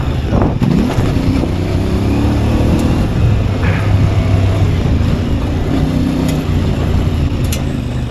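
A CF Moto 450MT motorcycle on an enduro loop on the Sunny Coast: the engine rumbles loud and close without a break, its pitch rising and falling with throttle changes, plus bumps and wind noise, with no talk.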